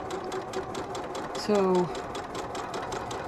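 A sewing machine runs a quarter-inch seam on a quilt block with a close, rhythmic, evenly pulsing hum that stays constant throughout. A voice speaks briefly partway through, and a short rising tone sounds over the stitching.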